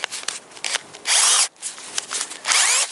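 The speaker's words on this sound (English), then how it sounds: "I take my battery, this battery drill" Cordless battery drill running in short bursts, whirring loudly with a couple of sustained revs and brief stops in between, close by in a workshop during a plastic repair on a Toyota light part.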